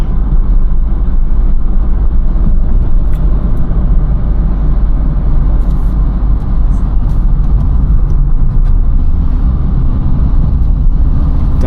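A 2013 Opel Corsa diesel car climbing Greek mountain roads, heard from inside as a constant low engine drone and road rumble, steady and loud for the whole stretch with no talking.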